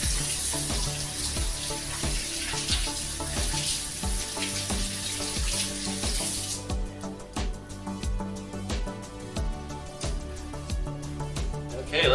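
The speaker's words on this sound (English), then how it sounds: "I'm going to wash my hands." Tap water runs into a sink as hands are washed, a steady hiss that drops in intensity about halfway through while the flow continues at a lower level.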